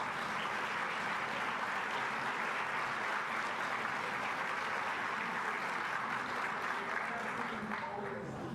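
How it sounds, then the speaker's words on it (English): Steady, dense audience applause filling a symposium room, sustained at even loudness for the whole stretch with no speech over it. "give the person next to you a round of applause"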